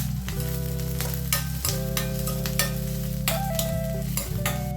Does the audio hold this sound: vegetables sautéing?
yes